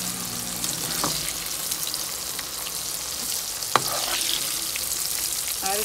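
Okra frying in oil in a pan, a steady close sizzle with a few sharp clinks of a utensil against the pan, no talking.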